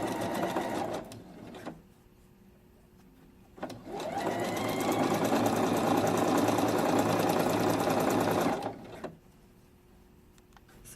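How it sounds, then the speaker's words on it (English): A domestic sewing machine stitches elastic onto bikini fabric, running in loud steady bursts: a short run, a pause, a long sustained whir of about five seconds, then another stop and restart. "just giving a little bit of tension as we sew to keep the elastic taut"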